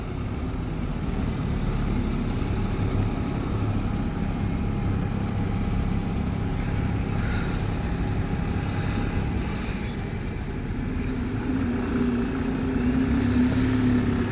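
A bus engine at Lincoln Central bus station growls steadily at close range, a low continuous rumble that holds through with a faint rise near the end.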